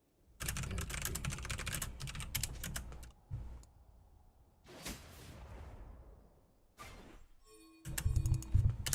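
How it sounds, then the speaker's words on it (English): Rapid typing on a computer keyboard, dense bursts of clicking keystrokes in several separate runs with short pauses between, close and crisp. "You want gold, stop typing."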